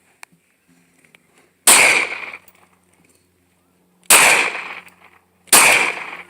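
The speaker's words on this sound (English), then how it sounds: "He's gonna shoot a Glock." Three sharp, loud Glock pistol shots fired outdoors, spaced unevenly with a couple of seconds between them, each with a short ringing decay and no talking.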